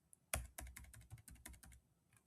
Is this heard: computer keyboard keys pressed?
yes